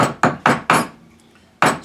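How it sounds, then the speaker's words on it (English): An open metal ring shank is hammered on a mandrel to size it: four sharp, close metallic taps in quick succession, a short pause, then another strike, with no voices. "what I need to do is maybe hammer it to get it to the proper size that I want"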